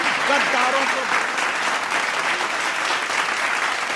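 Dense, steady applause from an audience at a Hindi poetry recital, filling the whole stretch at close range with an even wash of clapping.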